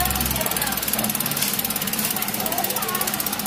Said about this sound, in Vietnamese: Tiếng lổ của cối rất là nhỏ, nghe cực kỳ là êm.